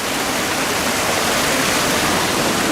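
Steady rushing water pours into a micro hydro intake on an off-grid system, a loud, continuous broadband roar with no pauses and no voices.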